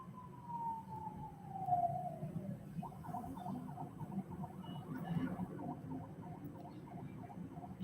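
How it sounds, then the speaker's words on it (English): A fire truck siren wails in a long descending sweep, then shifts into a rapid repeating warble, moderately distant over low traffic rumble with no talk. "I bet that's a fire truck, not a cop car."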